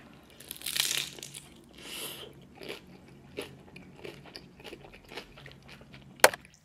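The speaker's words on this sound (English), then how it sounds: "I just need to eat these tostadas and go to bed" Extra cheesy tostadas are bitten and crunched close up: two loud crisp bites, quieter chewing crackles in between, and a sharp crunch near the end, with no talking.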